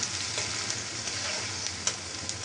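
Continuous frying hiss of onions in hot oil, with a few soft stirring ticks scattered through, close and steady.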